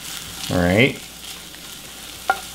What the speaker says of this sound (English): You can hear the sizzle in the background.